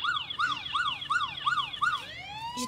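An ambulance siren wails in a steady repeating rising-and-falling pattern, loud and close, with no talking.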